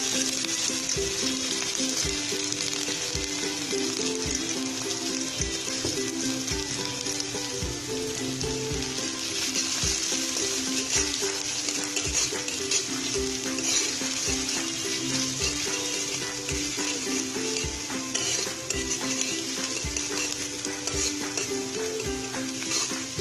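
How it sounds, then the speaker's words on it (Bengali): Onions sizzle steadily in leftover oil from frying chillies, cooked for a Bengali potato bhorta, a loud, dense, continuous crackle with faint stirring clatter throughout and no voices. "এখন তেলগুলোর মধ্যে পেঁয়াজটা ছেড়ে দেবো।"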